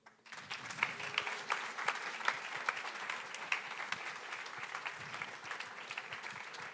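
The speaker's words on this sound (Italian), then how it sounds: "A great applause." Audience applause at a tech meetup talk, a dense, steady wash of many hands clapping that swells quickly and holds at an even level for several seconds, with no speech over it.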